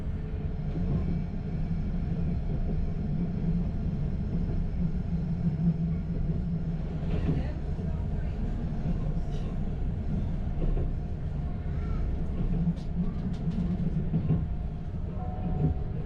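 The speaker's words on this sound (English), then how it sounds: "Our RegioShark has worked much harder this morning coming up this hill, and it's happily cruising down." A regional diesel train rolls steadily downhill with a continuous low rumble and faint rattling of the carriages, loud and unbroken throughout.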